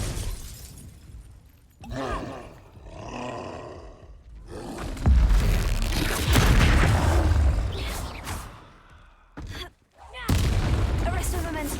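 Booming Bombarda explosion spells cast in Hogwarts Legacy, producing loud crashing blasts with shattering debris mixed among other spell effects and a speaking voice, with one long roaring burst in the middle and another sharp blast near the end.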